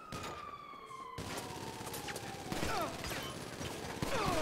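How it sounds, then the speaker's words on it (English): Video game gunfire in GTA 5, rapid bursts of shots crackling amid a wailing police siren and chaotic street action, fairly loud and continuous with no clear talk. "Please stop him from shooting and killing me."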